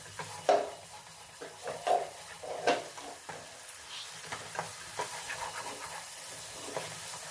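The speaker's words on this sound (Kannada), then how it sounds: "ಅದು ಹಸಿ ಸ್ಮೆಲ್ ಹೋಗೋವರೆಗೂ ಚೆನ್ನಾಗಿ ಫ್ರೈ ಮಾಡ್ಕೋಬೇಕು." Tomato and cashew paste frying in a pan over a low flame, a steady soft sizzle broken by several sharp scrapes and stirs of a spoon against the pan, close and moderately quiet.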